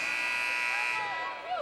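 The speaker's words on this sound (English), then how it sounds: "And Phyllis Mangina wearing out that buzzer over at the scorer's table." A steady electronic buzzer sounds from the scorer's table at a women's college basketball game, a long sustained tone lasting most of the moment before cutting off, with faint arena crowd noise underneath.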